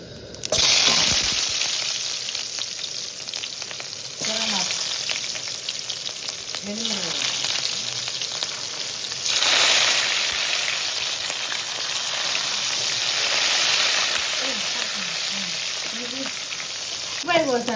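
Half an onion sizzling in hot oil for a potato fry, a steady crackling hiss with occasional stirring, and someone speaking intermittently over it.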